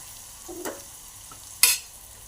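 Onions fry in a pan until golden, giving a faint sizzle under a few quick stirring scrapes, with one sharp clink of a spoon against the pan.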